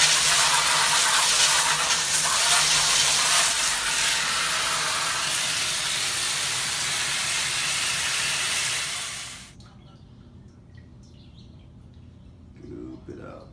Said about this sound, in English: Now I'm just rinsing out the last remaining dirt and DE out of the bottom tank